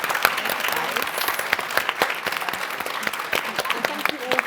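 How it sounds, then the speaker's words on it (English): An audience claps after a panel discussion on women being more active, with dense, sustained applause filling the room at steady loudness throughout. "So big round of applause."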